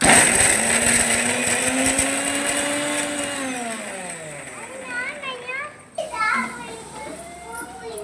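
A mixer grinder grinding coconut whirs steadily, then its motor pitch glides down as it winds to a stop, followed by children's voices chattering nearby.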